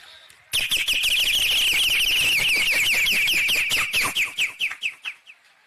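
A person imitating a bird with a rapid string of high, whistled chirps, loud and close, slowing and fading into separate notes toward the end.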